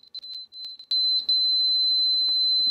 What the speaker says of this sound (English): The inverter here is giving us an alarm.